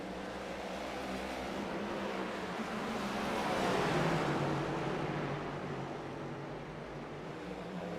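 Race cars roar around New Hampshire's oval in the iRacing video game, a dense, continuous engine drone that swells toward the middle as a pack moves by, then eases slightly.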